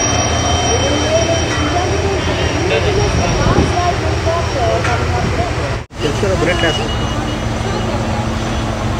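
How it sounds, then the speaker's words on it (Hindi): Navy aircraft flying in formation during a Navy Day rehearsal over a beach, a loud continuous jet roar with rushing wind under a commentator's voice on a public address. "The formation of the aircraft currently flying the national flag."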